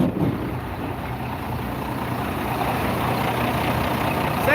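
A Bluebird bus engine idles steadily with its stock exhaust, not yet straight piped, producing a continuous, loud, even rumble with a constant hiss throughout and no talking.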